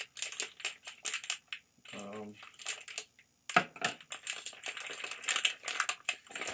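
Scissors snip and plastic packaging crinkles as a bag of Halloween bracelets is cut open close by, giving sharp clicks, rustles and crunches in short bursts, while someone talks.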